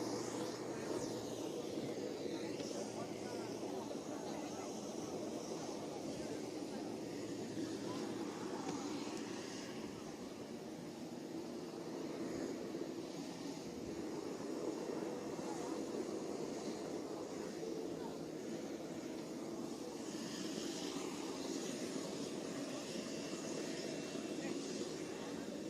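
Aircraft engine heard from inside the cabin of a plane carrying the Red and White flag escort team to Jakarta, a steady low broadband roar throughout with a continuous rushing hiss and no clear breaks.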